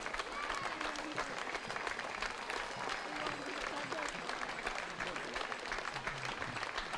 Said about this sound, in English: We have one of our veterans getting a special round of applause.